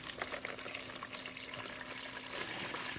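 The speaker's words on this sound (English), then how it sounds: "Take a pitcher of water, and there are pitchers over on the shelf, and you're going to put water in here." Water is poured from a pitcher into a container holding rocks, making a steady close splashing and trickling that runs continuously without a break, with no voices.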